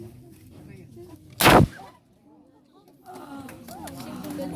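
A single loud, sharp gunshot cracks out during a military confidence firing exercise, a sudden close blast that drops into a brief hush before people resume talking.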